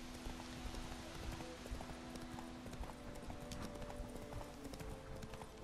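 Horse galloping in The Witcher 3 video game, rapid rhythmic hoofbeats clip-clopping steadily and fairly close throughout, with faint background ambience.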